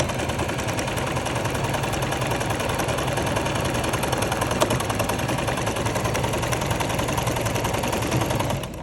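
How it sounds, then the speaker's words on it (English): A home sewing machine stitches a buttonhole with a steady, continuous motor whir and rapid needle chatter. The sound is close and even for the whole stretch, with no talking. "The moment it starts sewing at the same place, that means your buttonhole is done"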